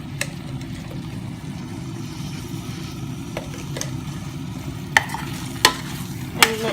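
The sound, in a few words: stirring mee curry frying in a pan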